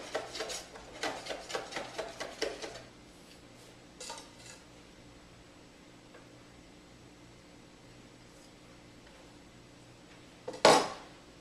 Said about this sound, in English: So I'm just going to chop up this basil really fine.